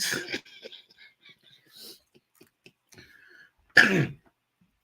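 A single harsh cough bursts out near the end after a stretch of quiet breathy sounds and small noises, close and fairly loud.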